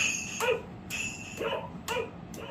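A dog barks four times in short, evenly spaced yaps, close and clear against a quiet background.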